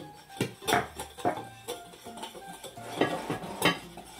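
A utensil stirs powdered sweetener into ingredients in a bowl for an eggless, sugar-free roscón de Reyes dough, giving repeated scraping and clinking strokes against the bowl with no talking.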